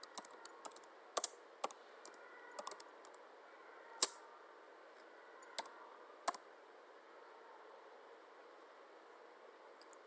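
Typing commands on a computer keyboard, with sparse, quiet key clicks in short irregular bursts and a few sharper taps over faint background hiss.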